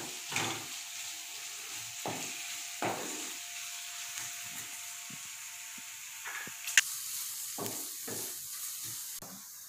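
Onions frying in a pan with ginger garlic paste for a Hyderabadi egg curry, a low steady sizzle broken by several short scraping stirs and one sharp clink near the end, with no talking.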